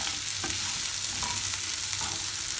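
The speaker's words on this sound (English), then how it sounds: "So I would want to put the rice a bit with the oil" Rice is stirred in hot oil for a lamb curry rice, a close continuous sizzle with scraping strokes of a spoon or spatula and a few sharper clicks, no talking.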